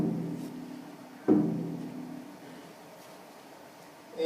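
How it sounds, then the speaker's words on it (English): Bass drum struck with a pedal, heard as a couple of isolated low thumps with decaying boom, faint against a quiet background, one hit midway and another at the very end. "And then there's the bass drum."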